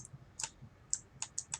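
Quiet computer keyboard typing during play of the game Duskers: a handful of light, irregular key clicks spread over a couple of seconds, close and soft with no talking.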